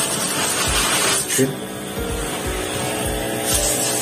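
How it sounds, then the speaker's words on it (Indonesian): Cleaner sprayed onto a car's AC evaporator inside the cabin at a car detailing shop, a continuous close hissing spray with a faint mechanical hum and a voice speaking over it. "Oke, evaporatornya disemprot ya, di salon ya."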